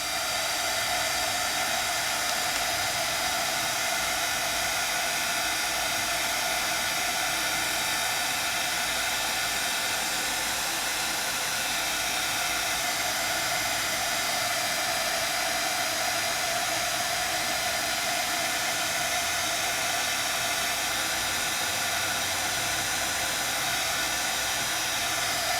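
A heat tool melts embossing powder, blowing a continuous, even hiss with no pauses and no speech.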